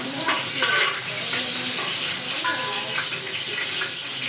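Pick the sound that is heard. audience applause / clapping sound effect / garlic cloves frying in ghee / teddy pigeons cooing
garlic cloves frying in ghee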